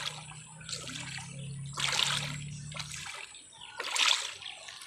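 Floodwater splashes in a few distinct bursts close by, alternating with quieter sloshing and a faint low hum that drops out midway.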